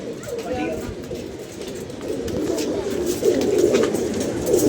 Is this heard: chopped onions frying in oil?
no